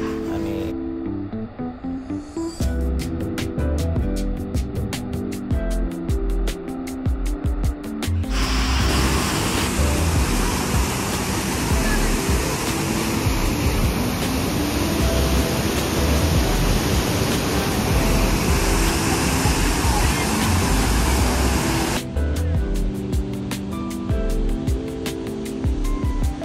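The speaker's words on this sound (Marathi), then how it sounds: "हा अतिशय अप्रतिम असा वॉटरफॉल दिसतोय" The Bhandardara waterfall gives a loud, steady rushing roar of falling water through the middle stretch, with music-like tones before and after.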